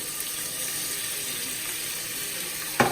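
Shrimp going into a hot saucepan for a sausage, shrimp and vegetable one-dish meal: a steady, even hiss of sizzling oil throughout, with a louder sputtering burst near the end as they hit the pan.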